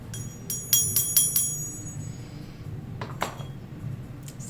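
Small hand bell rung in a quick run of bright metallic dings, four or five close rings followed by a few scattered clinks, near and clear over a quiet room.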